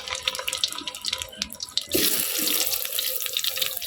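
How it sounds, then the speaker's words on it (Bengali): Eggs frying in hot oil for an egg and potato curry: light crackling first, then a loud, continuous sizzle surges in at about two seconds and holds steady, close up with no talking. "তেল গরম হয়ে গেছে, এবার ডিমগুলো দিয়ে ভাজবো।"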